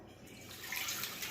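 A cup of water is poured out in a kitchen, a soft, short splashing pour heard close and fairly quiet, with no talking.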